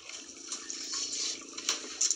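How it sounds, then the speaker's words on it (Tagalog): Sea current rushes and gushes steadily, with occasional louder surges splashing through the flow. "Malakas pa rin ang agos pag ganyan"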